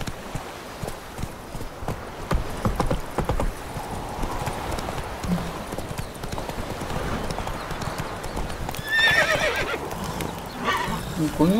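A horse in The Witcher video game whinnies and clip-clops, with hooves beating steadily beneath the sound and a neigh rising near the end, while people talk over it.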